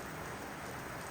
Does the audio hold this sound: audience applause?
no